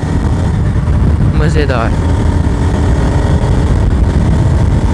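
A Bajaj Pulsar motorcycle rides through a quiet early-morning market, its engine droning steadily and close throughout while someone talks over it.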